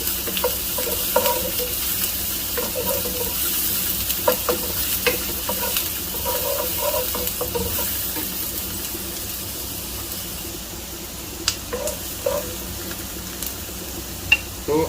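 Onions sauté in a pan, with a constant hissing sizzle and repeated spoon scrapes and taps, a few sharper knocks near the end.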